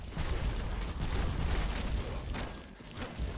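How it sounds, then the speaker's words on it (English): Grenade blasts from the action game Bastion rumble as a dense, continuous barrage of low booms and bursts, loud and close, with no clear gaps between detonations. "But he's still tossing the grenades"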